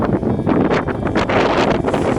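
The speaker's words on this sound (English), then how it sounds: "the weather's getting worse, it's getting windier" Strong wind on the Matterhorn roars and buffets the microphone in loud, continuous rushing gusts with no break, close and harsh.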